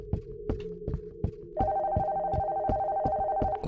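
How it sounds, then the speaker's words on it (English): An old-style telephone bell starts ringing upstairs in a horror video game, steady and shrill over a slow, heavy heartbeat-like thumping that pulses throughout. "The phone from upstairs is ringing."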